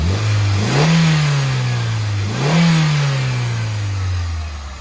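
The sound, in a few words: 1986 Toyota MR2 GT engine revving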